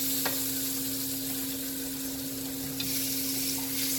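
Pork chops sizzle and crackle steadily in a frying pan, a constant close hiss with a few brief pops.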